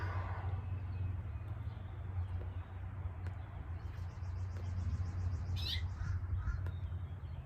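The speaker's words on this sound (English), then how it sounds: "birds are starting to nest up in my spouting on my porch" Birds nesting in the rain gutter of a house porch give short calls in the middle distance, including a quick run of repeated chirps, over a steady low hum.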